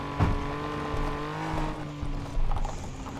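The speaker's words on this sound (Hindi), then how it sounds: "अब इस गाड़ी की सिर्फ आवाज़ सुनिए" Car engine running in Car For Sale, a mobile car-selling game, with a steady tonal hum and a few brief louder clunks and rises, heard alone without talk.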